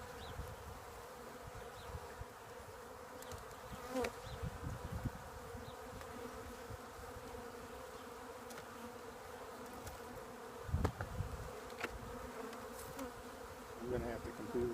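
Honey bees buzz steadily around an open hive during a late winter inspection, a continuous droning hum with a few louder passes close by and no talking.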